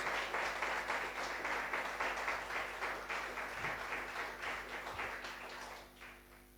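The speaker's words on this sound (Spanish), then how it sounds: "Dale un fuerte aplauso al Señor" A church congregation applauds at a Spanish-language worship service, dense steady clapping that carries on for several seconds before thinning out toward the end.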